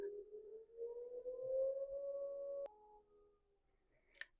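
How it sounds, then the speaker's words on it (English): Tornado siren on its weekly Saturday noon test, a loud sustained wailing tone slowly rising in pitch, then cutting to a quieter lower tone that fades. "Our tornado sirens go off at noon every Saturday"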